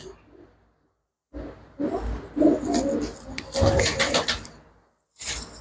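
Pigeons at a pigeon sale coo in short rounded bursts amid voices, with a pause and clattering sounds in between.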